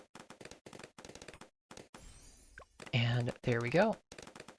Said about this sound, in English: I'm going to get a full metal jacket sniper with fast firing